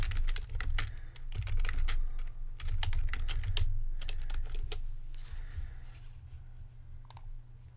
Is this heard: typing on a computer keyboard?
yes